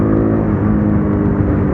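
A UM Renegade Commando motorcycle pulls hard under acceleration with a loud, close, continuous engine drone that holds steady through the short stretch.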